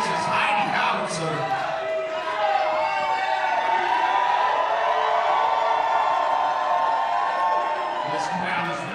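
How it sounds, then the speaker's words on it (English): Wrestling crowd before the main event of Heidi Howitzer versus Maki Itoh, cheering and shouting in a steady, loud roar from a packed hall, with whoops rising above the mass of voices. "This crowd is red hot for our main event."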